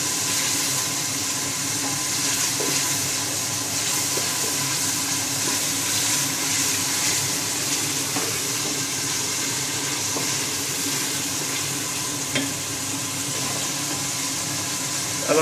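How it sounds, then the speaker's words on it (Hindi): Onion with ginger garlic paste frying in a pot for mutton paya, a loud, steady sizzle and hiss that runs throughout with occasional faint scrapes of stirring. "प्याज के भूनते भूनते ही हम इसके अंदर अदरक लहसुन का पेस्ट ऐड कर दिया। इसको भी थोड़ा सा हम भून लेंगे।"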